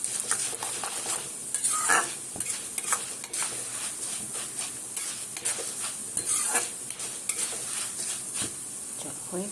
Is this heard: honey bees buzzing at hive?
no